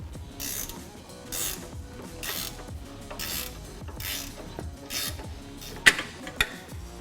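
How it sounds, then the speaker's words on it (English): A ratchet wrench removes the bolt from a Jeep Wrangler JK steering stabilizer in a series of rhythmic rasping clicks, close and fairly quiet, with a couple of sharper metallic taps near the end. "Remove the bolt on the other end of the stabilizer."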